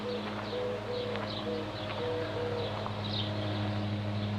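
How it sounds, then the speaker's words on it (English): A mourning dove coos in the background outdoors along a rural trail town, a soft repeated low call over steady low hum and ambient noise. "Hear a mourning dove in the background."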